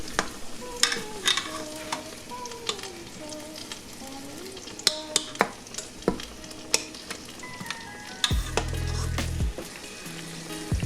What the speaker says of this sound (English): We want to make sure that we sear all 4 sides.